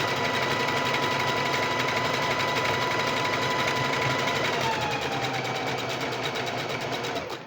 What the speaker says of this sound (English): I'm sewing in the lining